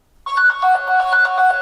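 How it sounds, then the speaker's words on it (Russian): A smartphone rings loudly through a room, set off by a Xiaomi Mi Watch phone-search function: a bright, repeating electronic melody that starts abruptly and continues steadily, close and alone. "вот так вот начинает просто кричать на все помещение мой телефон"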